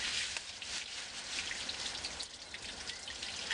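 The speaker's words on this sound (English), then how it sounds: "After 10 minutes, I'm done flushing." Water flushes through the heater core of a Pontiac Vibe, a steady hissing, splashing rush with patter-like droplet noise, constant and fairly close throughout.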